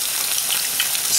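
Eggs fry with bread in a slightly tilted pan, a loud, steady close sizzle with faint crackles throughout and no voices.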